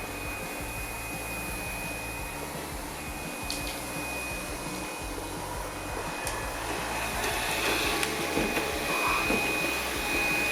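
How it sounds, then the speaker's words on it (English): A steady motorized whir with a thin high whine runs throughout from a yeedi Cube robot vacuum and mop working nearby, even and continuous with no talking. "the new yeedi Cube vacuums and mops the floor very well"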